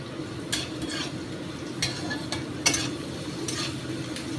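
Fenugreek greens frying with salt in a pan, a steady soft sizzle with occasional sharp scrapes and clinks of a spatula stirring against the pan, alone with no talking.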